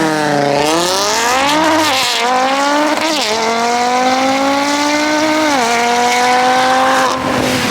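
An Audi RS3 race car launches hard with its wheels spinning, the engine screaming loud and close as it rises through rapid revs, with tire squeal mixed in.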